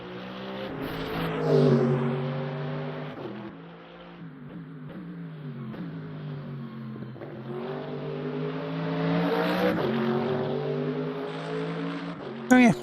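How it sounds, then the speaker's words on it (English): Race car engine in the iRacing or LMU sim racing game, revving up and down through gear changes with rising harmonic whine, steady and close throughout, with talk over it. "Oh yeah, car sounds really good."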